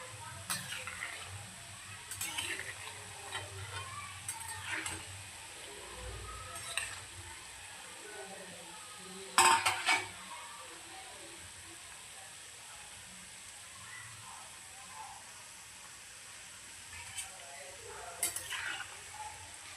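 Shankarpali fry in hot oil over a medium flame, a soft steady sizzle broken by scattered spoon scrapes and clinks against the pan, with one louder clatter midway.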